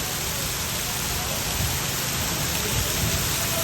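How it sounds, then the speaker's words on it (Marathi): Heavy monsoon rain pours steadily in Gujarat around a vehicle standing in floodwater, a dense, loud, unbroken roar of falling water throughout. "पाऊस बघा कुठल्या पद्धतीने चालू आहे. मरणाचा पाऊस चालू आहे"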